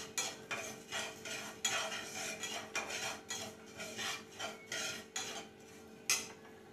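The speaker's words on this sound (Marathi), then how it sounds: "मसाला थोडा वेळ 10-15 मिनिटं परतू द्यायचा" Masala for beetroot bakarwadi being sautéed in a pan, with a utensil scraping and stirring in repeated strokes about every half second, close and moderately loud, with no voices.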